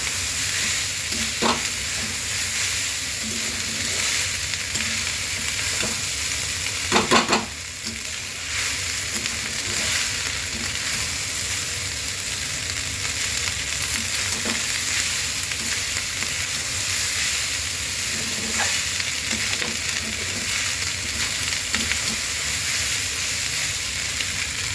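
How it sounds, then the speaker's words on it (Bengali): Cooked rice is stir-fried over low heat in a pan and turned repeatedly, producing a continuous soft sizzle with occasional scraping and stirring knocks, and no voices. "ভাতটা দিয়ে বেশ অনেকক্ষণ আঁচটা হালকা করে নাড়াচাড়া করবো"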